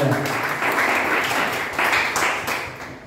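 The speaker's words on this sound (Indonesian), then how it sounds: "Beri tepuk tangan dulu bagi Tuhan Yesus" Church congregation clapping during a sermon, a fairly loud, dense round of applause that swells and dips slightly and then tapers off near the end.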